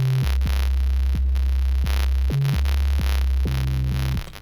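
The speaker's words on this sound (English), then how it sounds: "So that's how I do my 808s." A synthesized 808 bass from Serum plays deep sustained booming notes that change pitch with sliding attacks, loud and steady for about four seconds before it stops.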